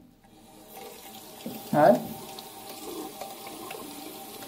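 A tap runs into a sink while a squash ball is washed with soap and water, a soft hiss of flowing water with a brief louder splash in the middle and a short spoken word.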